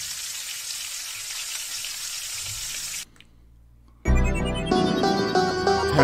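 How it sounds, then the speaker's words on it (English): Loud, steady sizzling of a deep fryer runs for about three seconds, drops out for a second, then returns as bright, bubbling frying. "Did I just fall into the deep fryer?"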